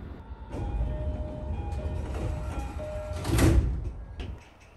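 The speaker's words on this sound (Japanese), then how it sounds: "列車の扉が閉まりました。" Train doors closing at Hazawa Yokohama-Kokudai station, the JR–Sotetsu boundary stop, with a mechanical slide and a firm thump near the end over a humming platform and soft tones.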